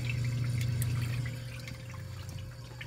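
Water spilling and trickling in the sump plumbing of a 150-gallon reef aquarium, an Emerald 39 sump from Trigger Sumps, a soft continuous splash over a low pump hum, easing slightly partway through.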